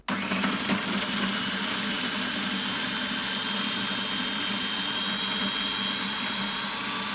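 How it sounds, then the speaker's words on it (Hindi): An electric chopper whirs loudly and steadily, blitzing washed coriander, mint, green chillies and spring onions for chicken shami kebab, a continuous close motor roar with no voices. "अब मैं उसको चॉप कर रही हूँ"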